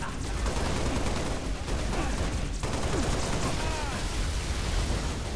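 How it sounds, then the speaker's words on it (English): Turret gunfire in the Halo Reach video game, a dense, continuous barrage of rapid shots that stays loud throughout. "Oh, there's two turrets."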